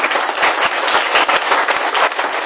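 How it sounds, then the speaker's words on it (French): A church congregation applauds in praise, a steady dense wash of many hands clapping close and loud, with a few sharper individual claps standing out. "On nous applaudit ça pour la gloire de Dieu."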